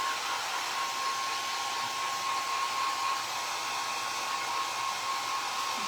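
A hair dryer blows air onto a recycled glass jar, a loud, steady, close whoosh with a constant whine that continues without a break.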